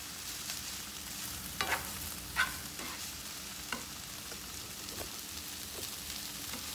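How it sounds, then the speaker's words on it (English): Tofu scramble being stirred in a frying pan, with a steady soft sizzle and a few scattered scraping clacks of the utensil, close by with no talking. "you're just gonna keep stirring in it just to cook it"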